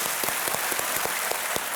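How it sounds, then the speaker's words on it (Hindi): Studio audience applauding on a televised Hindi quiz show, Kaun Banega Crorepati, a dense steady wash of many hands clapping with some sharper individual claps standing out, filling the whole moment with no talk. "एक बार फिर तालियां बज जाएं दिव्या जी के लिए।"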